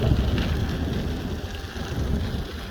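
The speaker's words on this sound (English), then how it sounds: "especially with this thunderstorm moving in here" A severe thunderstorm over Montreal brings a steady, full roar of rain with low rumbling beneath, continuous and fairly loud with no voices.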